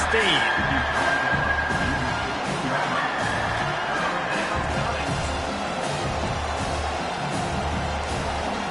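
A college football stadium crowd cheers and shouts loudly for its defense, a continuous roar with whoops and scattered whistles, while an announcer talks over it.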